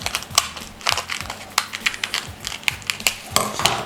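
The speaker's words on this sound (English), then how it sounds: "I'm going to cut these in half to make sure I can get all the seeds out." Dried chili peppers being cut in half with a knife on a cutting board to remove the seeds, a string of crisp, crunchy snips and taps at an irregular pace, close up.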